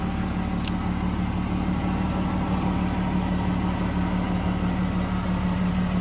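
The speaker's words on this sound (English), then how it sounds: "Good sounding, good running engine." A 1996 Jaguar XJS convertible engine idles in a steady, even hum with a constant low drone, close and unbroken throughout, with no talking over it.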